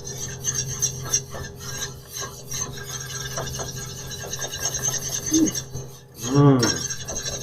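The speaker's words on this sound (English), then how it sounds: "stirring continuously for 2 minutes" A spoon stirs and scrapes a blonde roux of flour for meatball sauce in a pan, a soft continuous rasping rub with occasional light clinks and a brief voice near the end.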